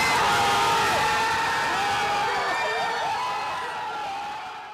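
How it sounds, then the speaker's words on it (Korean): A crowd erupting in cheers after South Korea's late winning goal against Portugal at the Qatar World Cup: a loud, dense roar of shouts and whoops that holds steady, then gradually fades. "황희찬의 결승골에 모두가 환호성을 질렀습니다"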